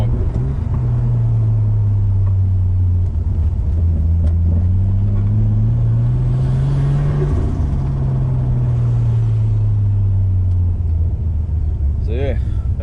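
A Nissan Skyline R32 engine at part throttle on a test drive, a loud steady low rumble that rises and falls gently with speed, heard from inside the car, with a voice talking over it.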